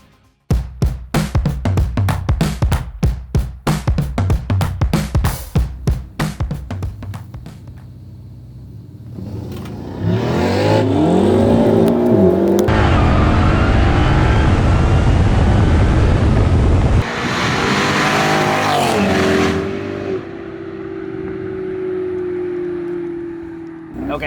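A 1000 hp Jeep Trackhawk and a Ferrari 488 drag racing: a rapid run of sharp engine revs and pops, then a loud sustained roaring acceleration that drops briefly and returns, ending with a fading engine drone.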